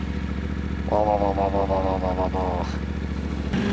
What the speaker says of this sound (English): let's give this thing a little go